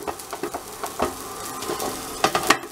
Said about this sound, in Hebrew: הסיר מאוד חם כעת, ואני שמה את הקציצות שאני מכינה.